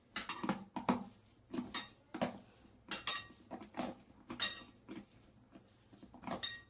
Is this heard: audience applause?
no